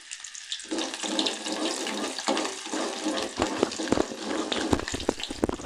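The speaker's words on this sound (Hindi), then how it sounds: "मैंने ये दो टेबल स्पून जो हैं वो ऑयल ले लिया है, सरसों का ऑयल। उसमें ये मैं प्याज शामिल कर दूँगी" Onions sizzling and crackling in two tablespoons of hot mustard oil, a steady close hiss with sharp spitting pops, starting abruptly after a brief quiet moment and continuing without talk.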